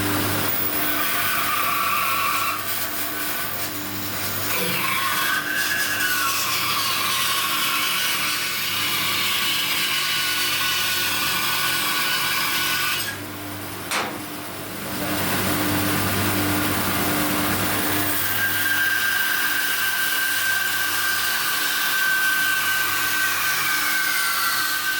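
A saw cuts the corner off glued-up wooden panels for an end-grain cutting board, giving a loud, steady, close whine. It runs almost unbroken, with a short dip partway through and no voices.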